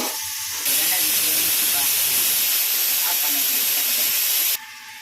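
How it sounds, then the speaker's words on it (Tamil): A pressure cooker whistle releasing steam while colocasia kara kuzhambu cooks, one loud, close, sustained hissing blast lasting about four seconds before it cuts off abruptly. "இன்னொரு விசில் வந்து ஆஃப் பண்ணிடலாம்"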